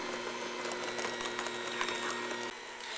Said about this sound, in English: Well, the mixer mixes it up.